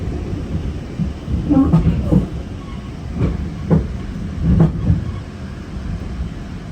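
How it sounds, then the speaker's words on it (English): A GO Transit train switches tracks near Mount Dennis, its rolling rumble carrying a few heavy clattering wheel thumps at the crossovers, steady and close from inside the coach. "we are changing tracks at Nickel"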